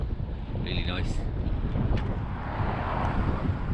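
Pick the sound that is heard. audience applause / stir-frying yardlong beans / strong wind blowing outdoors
strong wind blowing outdoors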